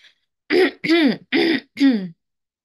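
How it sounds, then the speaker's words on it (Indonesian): Four quick, close throat-clearing coughs come in a short burst, each a rough, gravelly hack separated by brief pauses. "Kenapa ya aku kok batuk?"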